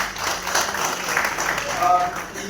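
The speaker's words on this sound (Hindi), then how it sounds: "उनके लिए भी जोरदार तालियां" An audience at a university agriculture program gives loud applause for the university's students. The clapping is mixed with voices and continues throughout.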